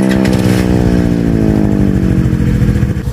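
A Yamaha R15 sport motorcycle revs hard and close on a country road in Sta. Cruz, Zambales. The engine rises in pitch as it accelerates past, loud and without voices.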